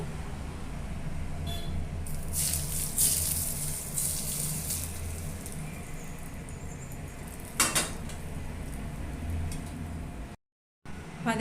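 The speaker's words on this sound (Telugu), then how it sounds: "ఈ వేడి వేడి నూనె ఉల్లిపాయల్లో పోసేసుకుందాం." Hot oil with mustard seeds and a dried red chili poured onto onions for an onion avakaya pickle: a close burst of hissing sizzle that settles into steady crackling, with a brief clatter of utensils.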